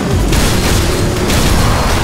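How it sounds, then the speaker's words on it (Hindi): A loud, dense cartoon laser vulcan attack blast, a sustained roaring burst of booming noise filling the whole clip. "आ रहा है लेजर वल्कन आक्रमण"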